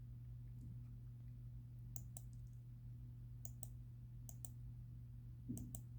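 A handful of sharp computer mouse clicks, sounding singly and in quick pairs over a steady low hum.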